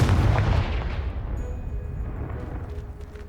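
Confringo explosion spell blasting a pile of debris in Hogwarts Legacy, a loud deep boom that rumbles and slowly fades over a few seconds.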